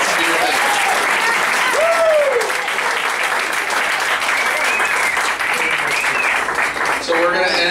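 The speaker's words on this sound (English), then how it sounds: "Round of applause for the intern." A medical residency graduation gathering breaks into a round of loud, dense applause for an intern, with crowd cheers, whoops and scattered voices mixed in throughout.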